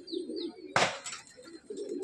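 Pigeons in a rooftop breeding loft in Khardah coo in soft, low, repeated calls at close range, broken by one sudden rustling burst like flapping wings.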